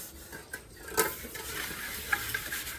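Dishes and a cooking pot being washed by hand, with scattered scraping and sharp metallic clinks and clatters close by, and no talking.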